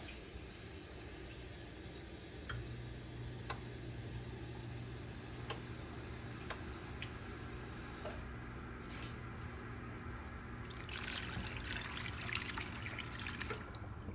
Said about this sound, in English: We're going to put enough water to kind of cover them.